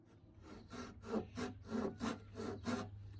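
A hand saw cuts a small wooden bowtie inlay in steady back-and-forth strokes, about seven rhythmic rasping passes, close and fairly quiet with no talking.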